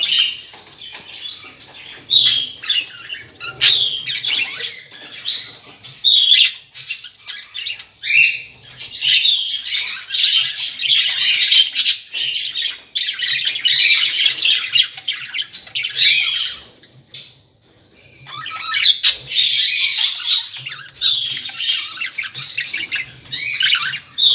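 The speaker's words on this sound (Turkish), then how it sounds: "Bakın arkadaşlar burada da çok güzel kuşlar var." Budgerigars in an aviary keep up a dense, steady chatter of squawks and chirps for the whole stretch, loud and close, with one brief lull partway through before the flock picks up again.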